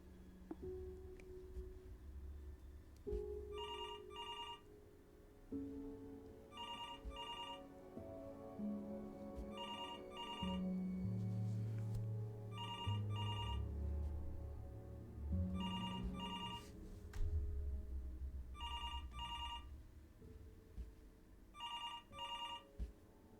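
Telephone bell ringing in the video game Before Your Eyes, repeating in regular double bursts about every three seconds over a low, swelling musical score, with no talking.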